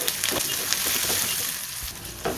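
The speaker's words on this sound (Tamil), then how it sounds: "இப்போ அதையும் சேர்த்து நல்லா வதக்கி விட்டுருவோம்." Tomato and green chilli sautéing in a pan with onion, a steady close sizzle of frying with a spatula stirring through it.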